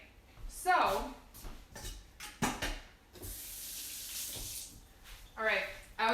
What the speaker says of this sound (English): I always like to rinse the egg off my hand when I'm done with an egg.